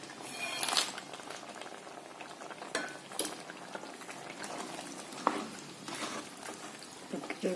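Beetroot simmering in water in a covered pan, a steady close bubbling hiss with occasional clinks and stirring taps.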